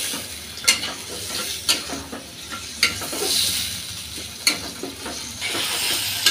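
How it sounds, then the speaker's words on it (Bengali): Jackfruit seeds and dried fish cook in spice paste, making a continuous sizzle broken by periodic sharp stirring scrapes, about one every second or so, close up. "কাঁঠাল বিচিটা শুটকির সাথে কিছুক্ষণ ভালো করে মশলার মধ্যে কষিয়ে নেব"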